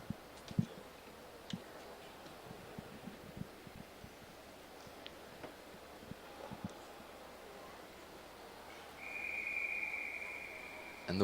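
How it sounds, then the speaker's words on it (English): At a track cycling championship race start, a steady whistle blast sounds for about a second near the end, set against a quiet arena with scattered faint ticks and clicks. "And the whistle goes"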